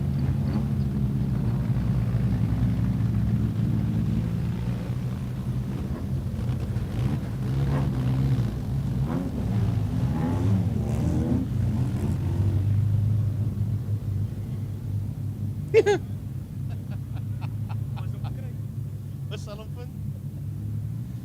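Race cars lapping the Mega Oval at the CANSA charity race make a steady, continuous engine rumble beneath ongoing commentary, with a brief sharp burst near the end.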